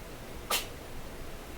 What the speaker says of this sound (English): That was my cat sneezing.